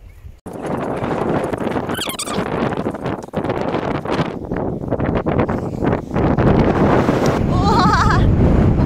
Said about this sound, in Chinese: 好大风啊！